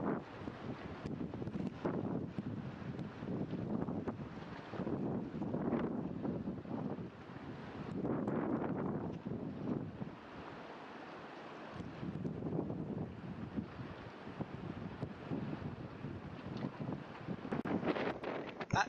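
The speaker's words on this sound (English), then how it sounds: "the wind was so strong, and here you can see it's surging the tide into the harbour" Strong wind gusts at a Scottish harbour with the tide surging in, a continuous rushing roar that buffets the microphone, swelling and easing in waves throughout.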